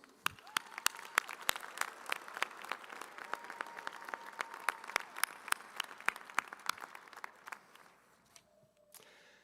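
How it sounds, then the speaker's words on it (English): A winter commencement audience at the University of Wyoming gives a round of applause: many distinct, crisp claps at moderate volume that thin out and fade near the end. "Please join me in giving them a round of applause."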